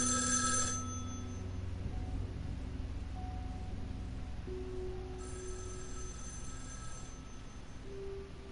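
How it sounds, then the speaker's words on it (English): A telephone rings in a video game, with a short bright electronic ring burst at the start and another fainter ring pattern later over steady low background hum and game ambience. "now the fucking phone is ringing"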